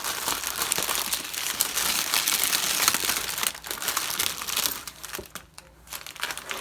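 Plastic packaging of a Diamond Art Club diamond painting kit crinkling loudly and continuously up close, dense rustling that thins out and briefly pauses near the end, with no voices.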